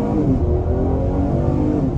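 A 2023 Acura MDX pulls away from a standstill at half throttle, its engine a loud steady drone rising gently in pitch as it gains speed, heard from inside the cabin without talk.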